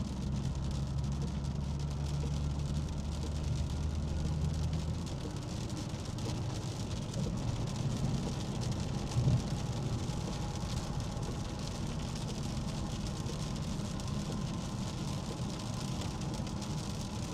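Steady rain from a thunderstorm drums on a car during storm chasing amid a Midwest tornado threat, a continuous wash of noise over a low engine rumble.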